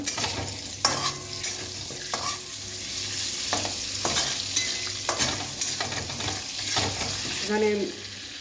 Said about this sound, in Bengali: তেজপাতা দুটো ছিঁড়ে দেব, আর বাটার দিয়ে দেবো